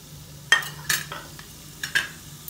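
Whole cloves, cardamom pods and cumin seeds frying in hot oil in a pan, a steady soft sizzle broken by several sharp stirring scrapes, close and alone without talk.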